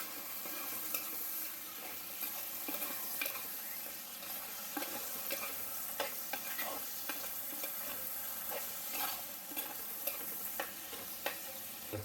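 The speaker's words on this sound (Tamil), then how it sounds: "இப்போ பாருங்கள், வெங்காயம் நல்லா வதங்கிட்டு இருக்கு." Onions sauté steadily in a pan with tomatoes added, giving a soft, continuous sizzle. Scattered light spatula taps and scrapes sound throughout, fairly quiet and close, with no speech.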